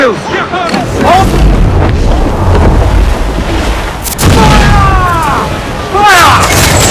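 Heavy ship cannons boom from a pirate sailing vessel in Assassin's Creed Black Flag, several loud blasts spaced across the scene amid shouted crew orders and commands.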